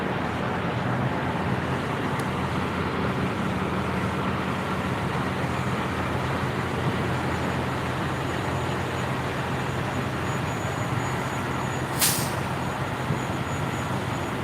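Steady traffic rumble from Freedom Convoy trucks rolling along the Parkway, a constant low drone with a brief sharp hiss near the end, like an air brake release. No one speaks.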